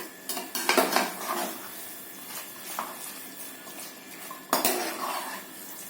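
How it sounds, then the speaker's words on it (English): A utensil stirs minced mutton and spices in a pan, giving repeated metallic scrapes and clinks against the pan. Two sharper knocks stand out, with quieter stirring between them. "Now I have mixed the mince with all the spices."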